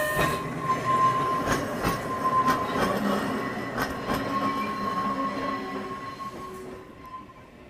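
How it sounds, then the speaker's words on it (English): An electric tram rolls past, a sustained rumble of wheels on rails marked by sharp rhythmic clacks over the joints and a faint squealing tone, loud and close before gradually fading toward the end; no voices. "So that there, guys, is an electric tram."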